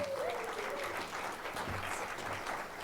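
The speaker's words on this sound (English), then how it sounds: "a small round of applause" Brief round of audience applause at a community conference on managing infusion-based therapies, fairly faint and distant, a dense patter of many hands clapping for a few seconds.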